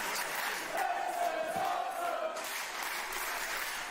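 A wrestling crowd roars its approval, a steady, dense wash of cheering voices that swells slightly midway and carries on without a break.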